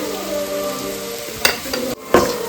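Vegetables with turmeric, garam masala and coriander powder fry for veg fried rice, loud crackling sizzle with sharp stirring scrapes and clatters of a ladle against the pan, close up.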